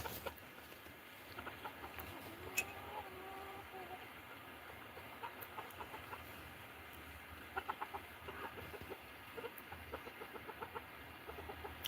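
Chickens clucking on a small farm, scattered soft calls over a steady low background hum, fairly distant and faint throughout.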